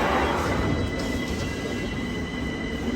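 A London Underground train rumbles along at speed, heard from inside the carriage as a loud, continuous low roar with rattling wheel noise and a faint high whine, no speech.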